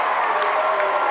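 At a Plymouth vs. Warsaw basketball game, the crowd applauds and cheers in a dense, steady roar of clapping that fills the whole moment with no break.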